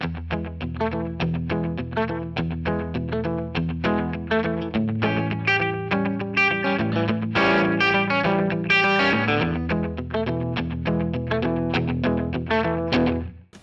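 Electric guitar picked in a rockabilly Travis style through a Kemper Profiler, each note doubled by a short slapback echo, played loud, steady and alone before cutting off at the end.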